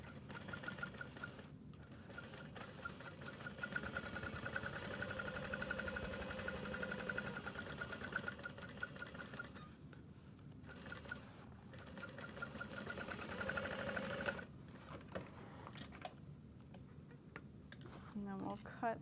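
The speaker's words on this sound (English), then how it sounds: "we'll do that second row stitching." Sewing machine stitching a second row of seams on a small tote bag, a steady mechanical whir with faint ticking running for long stretches, broken by brief pauses, under a quiet talking voice.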